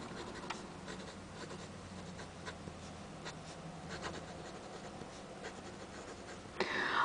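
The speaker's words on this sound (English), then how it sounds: "I don't know if you can hear it, but this is so scratchy." A Platinum Carbon pen with an extra fine nib scratches steadily across paper in close, quiet, continuous strokes, ending with a brief louder rustle.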